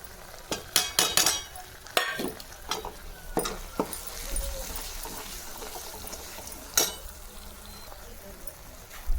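Kitchen king masala, turmeric and red chilli sizzle steadily in a hot pan for a black-masala paneer curry, with sharp spoon clanks and scrapes of stirring cutting in at irregular moments, close and fairly loud, no voices.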